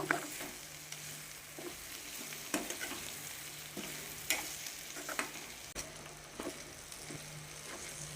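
Potatoes with turmeric fry in a pan, giving a soft, continuous sizzle punctuated by regular scraping stirs of a spatula, fairly quiet, with no talking.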